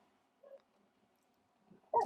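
Dogs indoors give a short, faint yelp, then a louder single bark-like whimper a moment later, two brief sounds separated by quiet room tone.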